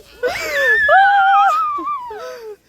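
On an amusement ride, a child lets out one shrill, sustained scream up close. It wavers for about two seconds, then trails off.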